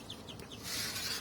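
Chickens kept on netting laid over wood under a staircase give short clucks and calls against a steady background hiss.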